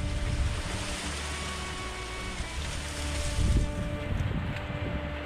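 Strong wind buffets the microphone outdoors during a wild dove hunt, a continuous rough roar with low gusty thumps that swell for a moment midway; no talk.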